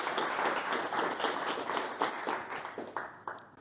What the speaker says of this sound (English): A big round of applause for Laszlo for the first ever speaker at MLOps Community Bristol.